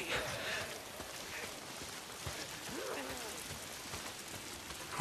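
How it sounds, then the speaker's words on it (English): Steady rain in the video game Days Gone patters across surfaces, a soft hiss with scattered drips and occasional faint knocks, no voices. "Damn rain. If it's not the freaks, it's the goddamn rain."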